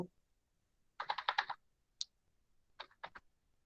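Short bursts of keystrokes on a computer keyboard, one dense cluster of clicks then a single tap and a few quick strokes, close and quiet in an otherwise still room.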